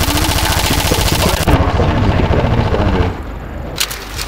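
Rapid automatic gunfire rattles loud and close in a Counter-Strike: Source zombie escape match, several weapons firing together before cutting off to a sparser tail with a last few shots.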